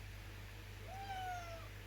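Tommy, a pet cat, gives a single soft, rising-then-falling meow indoors, faint over a low steady hum, with no talking.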